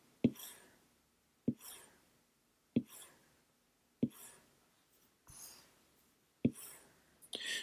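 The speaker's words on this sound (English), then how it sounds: "When you're coloring with your color pencils," Soft, rhythmic scratching of a colored pencil on paper, repeated in short strokes roughly every second, quiet and close.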